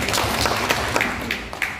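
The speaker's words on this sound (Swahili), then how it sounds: "tumpigie makofi" A crowd applauds at a memorial gathering, dense sustained clapping from many hands, loud and near, with no talk over it.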